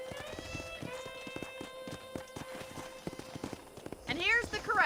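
Horse hooves clip-clop at a steady walking pace in the Red Dead Redemption video game, the regular thuds sounding over sustained musical tones, with a brief whinny-like flourish near the end.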